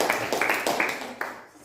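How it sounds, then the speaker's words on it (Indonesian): A small classroom group claps for presenters finishing a group presentation. The applause is sparse and uneven, with a few people's claps in loose bursts fading out toward the end. "tepuk tangan untuk"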